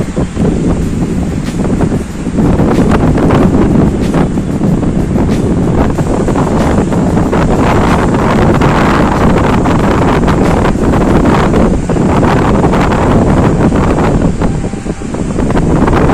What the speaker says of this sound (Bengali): সমুদ্রের ধারে এখন কি মারাত্মকভাবে যে হাওয়া দিচ্ছে তা তোমরা ভিডিও দেখে বুঝতে পারছো, আর আওয়াজ শুনে ভালোই বুঝতে পারছো।